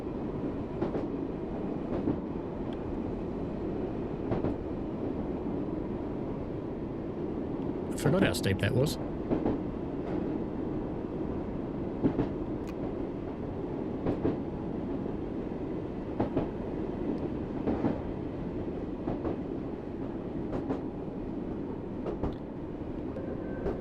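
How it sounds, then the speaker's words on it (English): Simulated train rolling on rails in the Great Western Express railway game, a steady rumble with rhythmic wheel clicks throughout, a brief high squeal or horn burst near the middle, and someone talking over it. "Lots of the trains honk at whistleboards."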